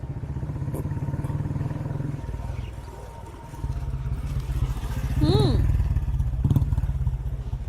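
A motorcycle engine rumbles steadily and close by, dipping briefly and then swelling again as the bike rides off, with voices talking over it.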